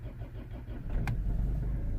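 Land Rover Freelander 2 engine cranking and catching, a brief starter burst followed by a steady low idle rumble, close and moderately loud, with no talk.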